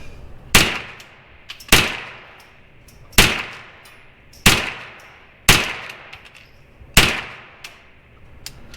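Six sharp gunshots from a Derya TM 22 .22 rifle ring out at an unhurried, fairly even pace outdoors, each crisp crack followed by a short decaying ring, with no talk between shots.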